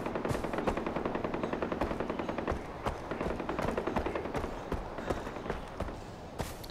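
Rapid automatic gunfire from the video game Far Cry 4, a loud, dense stream of close shots rattling almost nonstop for several seconds with no voice over it.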